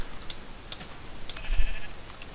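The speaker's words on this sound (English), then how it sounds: "More sheep." A sheep in the Minecraft video game bleats once, a short, fairly faint bleat over scattered clicking and low background noise.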